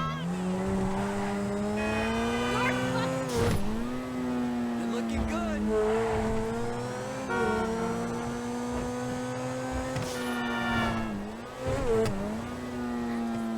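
The Turismo R supercar engine in GTA Online revs up and down in long rising and falling sweeps, loud and close, with a brief squeal of tires between pulls.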